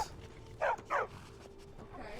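War dogs in an Elder Scrolls game give two short, fairly loud barks in quick succession, close by over quiet game ambience.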